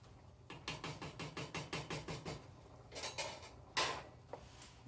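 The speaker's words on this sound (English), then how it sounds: "Take my wooden spoon, just mix it around a little" A wooden spoon stirs homemade chicken soup in a pot, giving a steady run of about a dozen rhythmic scraping knocks against the pot. A few louder clanks and scrapes follow near the end, with no talking.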